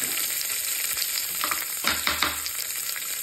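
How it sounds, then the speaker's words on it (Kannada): Mustard seeds and curry leaves sizzle and crackle in hot oil for a tempering, a dense close frying hiss with scattered pops and a few stirring scrapes, and no voices. "ಈಗ ಸಾಸಿವೆ ಇದಕ್ಕೆ ಒಗ್ಗರಣೆ ಕೊಟ್ಟಿದ್ದೀನಿ"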